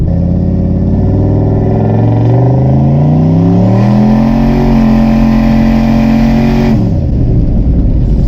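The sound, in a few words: loud pickup truck engine revving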